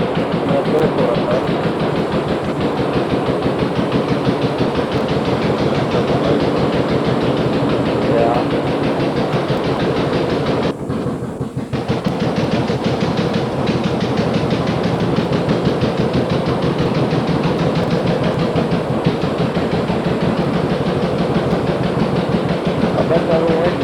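A small engine, apparently a miniature train engine, runs steadily close by with a continuous rattling, clattering drone that barely changes over the whole stretch; a voice makes a brief remark partway through.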